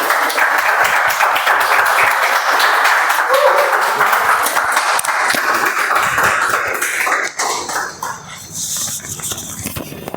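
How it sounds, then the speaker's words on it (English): A meeting audience gives a round of applause welcoming a Toastmaster onto the stage, loud dense clapping that holds for several seconds and then thins out, with a few voices mixed in. "With a huge round of applause,"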